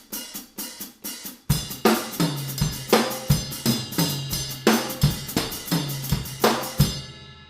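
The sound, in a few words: slow drum groove with kick, snare and toms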